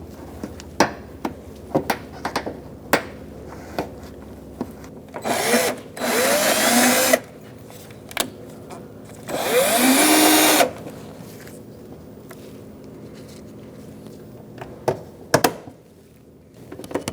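A power driver runs in two sustained whirring bursts as screws go into the fender liner of a 2004-2009 Mazda 3, close and loud, with clicks and clatter of handling in between.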